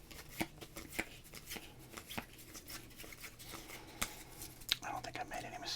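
Baseball cards handled and shuffled close up in a quiet ASMR setting, giving soft repeated flicks, slides and riffles with a few sharper snaps; quiet whispered speech runs alongside.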